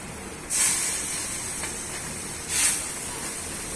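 Two short bursts of hissing sizzle as water is brushed onto a fenugreek flatbread on a hot griddle, a second apart, over quiet background noise.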